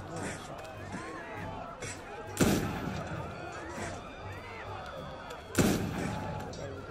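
Two sharp, booming rifle shots in a video game ring out a few seconds apart over a steady game background with faint scattered clatter.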